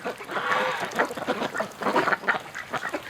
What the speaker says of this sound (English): That's a Peking drake.